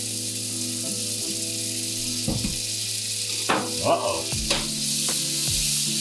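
Butter sizzling steadily in a hot frying pan, a loud continuous crackle with a few clinks and scrapes of utensils, as someone briefly exclaims over it.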